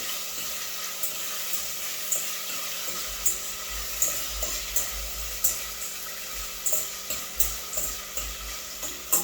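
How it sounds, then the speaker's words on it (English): Saltfish sautés in a pan for ackee and saltfish: a steady close sizzle runs throughout, broken by regular light scraping clicks as it is stirred, with no talking. "So I'm adding now the saltfish. Adding the saltfish. Alright. And I'm sautéing it."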